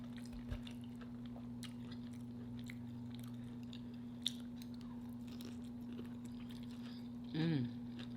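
Someone eats crunchy smothered beef short ribs seasoned with lemon pepper; a few faint, sparse crunching bites come close to the mic over a steady electrical hum, with a brief muffled burst near the end.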